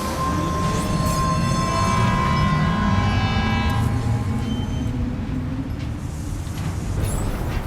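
A monorail in the video game Death Stranding 2 rumbles past loud and close, a sustained rolling drone with a high tonal whine that fades as the cargo train moves on, and no speech over it.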